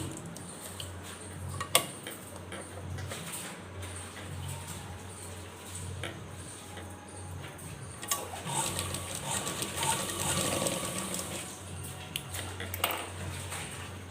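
A sewing machine stitching velcro onto the edge of a dress, with steady mechanical whirring and fine rapid ticking over a low hum, close by and without talk.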